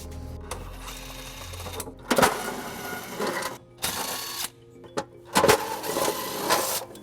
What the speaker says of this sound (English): And we'll remove those using a 10mm socket.